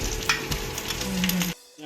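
Ginger and garlic hit hot oil for a fish curry, giving a loud, close burst of sizzling and crackling that cuts off abruptly into near silence.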